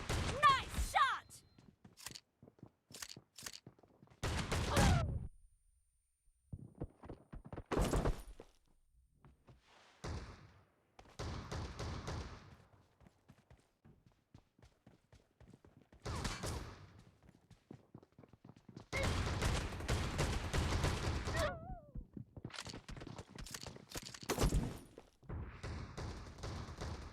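Shotgun blasts in the mobile battle-royale game PUBG Mobile ring out as loud, heavy booms in bursts and clusters, separated by quieter gaps, with voices talking in between.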